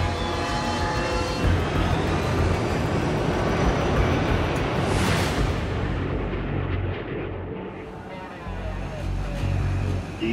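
Two airliners in a dramatized near collision roar with loud, continuous jet engine noise, swelling into a rushing whoosh around the middle as they pass, then easing back to a heavy rumble.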